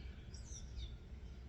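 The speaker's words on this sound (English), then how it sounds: "I don't know what birds I'm listening to" Birds call and sing outdoors on a sunny, cool day, a few faint high chirps rising over low steady background rumble; cardinals, a blue jay and a woodpecker are among the birds around.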